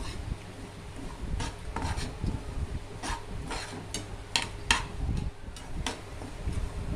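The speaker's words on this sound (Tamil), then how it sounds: "ரவையை வறுத்துட்டிங்கன்னா தான் கேசரி வந்து உதிரி உதிரியாக கிடைக்கும்" Semolina (rava) is dry-roasted in a pan and stirred for kesari. A spoon scrapes and taps against the pan in repeated ticks and rasps over a steady low hum, close by and with no voices.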